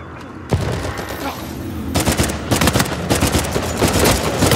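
Rapid FAL rifle fire in Uncharted 4 multiplayer sounds as loud, close bursts of sharp cracks, a single shot early, then dense repeated firing through the second half.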